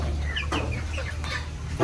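Several chickens, some of them sick, cluck and chatter close by in a poultry house, busy overlapping calls over a low background rumble.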